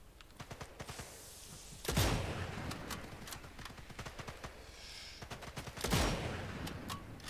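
Rapid gunfire from Sniper Elite 5 gameplay set on the Atlantic Wall, with dense clusters of shots and two heavier blasts standing out over steady background battle noise.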